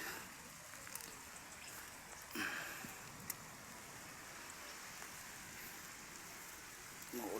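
Steady rain patters over a field of planted string beans, a dense continuous hiss with a few louder drip spots and brief bumps, fairly close and alone without speech.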